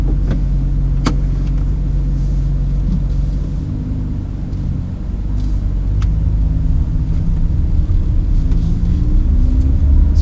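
A 2017 BMW M2 drives along with a steady, loud engine and road rumble that swells slightly as it accelerates, heard from inside the cabin with no talking.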